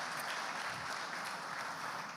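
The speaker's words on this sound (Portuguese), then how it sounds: "Quantos se alegram, dê um aplauso bem forte ao Messias." Congregation applause in a Portuguese-speaking church service, a dense unbroken wash of many hands clapping, loud and steady across the short stretch.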